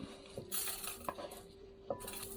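A utensil scrapes and clinks against metal as fried rice is moved into a rice cooker pot, with a few sharp knocks among soft shuffling at close range, fairly quiet and without talk.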